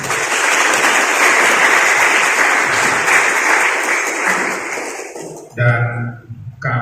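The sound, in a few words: applause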